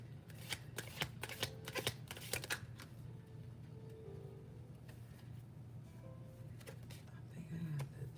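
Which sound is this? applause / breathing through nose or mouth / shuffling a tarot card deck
shuffling a tarot card deck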